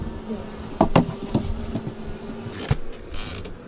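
Honeybees being moved into a new hive give a low, steady buzz, with scattered louder clicks and knocks of handling the hive over it, close and moderately quiet.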